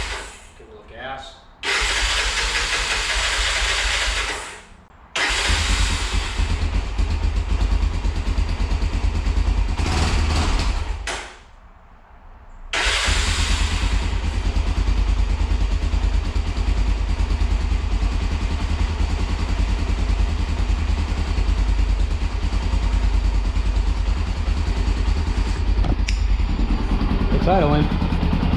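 A Honda 300EX ATV engine, freshly rebuilt, runs at a steady idle with a constant low drone after brief starts and stops, the sound close and continuous.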